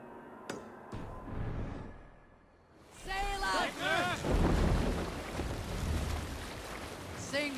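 Viking longship under sail in Assassin's Creed Valhalla, a broad rush of wind and water swelling after a quieter opening, with shouted voices and crew calls layered over the steady sea noise.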